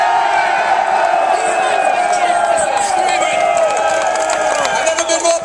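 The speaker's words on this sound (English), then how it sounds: "I want to hear you guys out there screaming." A large outdoor crowd at a correction officers' union rally in Mineola, Nassau County, screams and cheers in a loud, continuous roar with whoops rising above it.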